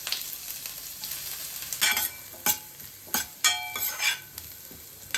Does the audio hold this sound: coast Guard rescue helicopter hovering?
no